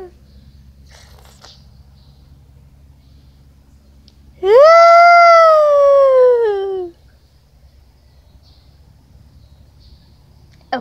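A voice imitates a ghost with a single drawn-out wavering howl, loud and close, rising then sliding down over about two seconds in an otherwise quiet room.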